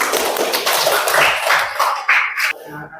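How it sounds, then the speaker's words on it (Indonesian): A classroom group claps after a student presentation: a dense patter of many hands, fairly loud and close, fading within a few seconds. "Oke, kasih tepuk tangan."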